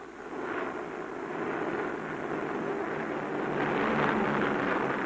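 A wartime supply plane flying overhead to drop parachute bundles to mountain forces, heard as a steady, broad engine roar that swells slightly toward the end and never lets up.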